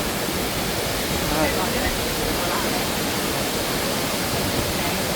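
A loud, steady roar of falling water, dense and unbroken, like standing close to a waterfall.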